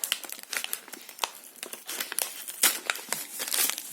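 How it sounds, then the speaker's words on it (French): A small envelope with a sticker and a wax seal being opened, close crinkling and rustling of paper with quick tearing bursts, busy and irregular throughout, no talk. "une petite enveloppe avec un petit sticker et un petit cachet en cire qui est juste là. Alors, on va l'ouvrir."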